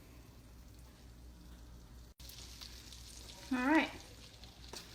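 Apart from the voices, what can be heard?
butter melting and sizzling in pan for roux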